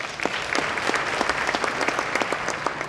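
An audience at an exhibition opening applauds steadily, a dense patter of many hands clapping fairly close, sustained throughout.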